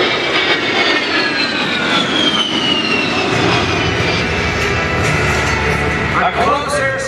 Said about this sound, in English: A close air support aircraft.